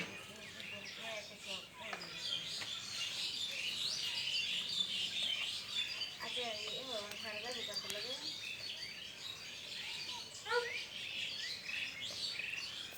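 Faint bird chirps and tweets flutter in the background, with soft voices talking now and then at a distance.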